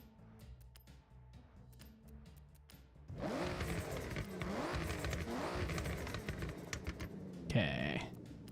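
Car engine revving in a racing video game with transmission and clutch upgrades, a rising and falling engine drone that starts abruptly partway through and holds steady, with a sharp higher whine near the end; keyboard-like clicks come before it.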